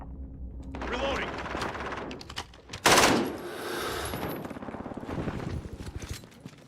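Video game shotgun loaded with slugs fires several heavy booms, one especially loud blast in the middle, amid other game gunfire and effects, with a voice talking over parts of it.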